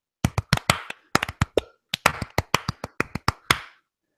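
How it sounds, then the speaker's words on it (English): Two people clap by hand, striking crisp, close claps in quick clusters of three that repeat irregularly, with short silent gaps between groups and no talking. "I'm gonna take the lead on this clapping, okay?"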